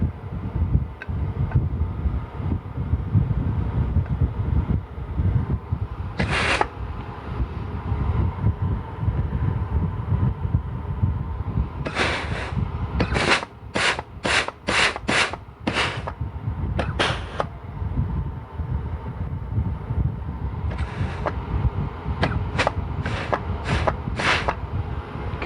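A clutch in a 4L60e transmission input housing is applied several times. Sharp hissing blasts come close and loud: one early burst, then quick clusters of short pulses over a constant background roar.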